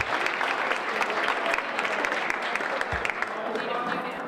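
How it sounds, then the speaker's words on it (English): A luncheon crowd at a Rotary senior event applauds for John Trowbridge, dense, sustained clapping filling the room from start to finish. "could give him a huge round of applause"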